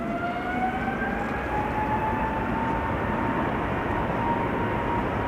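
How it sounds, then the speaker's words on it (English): A KLM Boeing 777-300 departs Amsterdam Schiphol for Lima with a steady, loud jet roar and a rising whine above it, continuous and unbroken with no talking. "KLM flight 743 going to Lima in Peru. 777-300 11 years old"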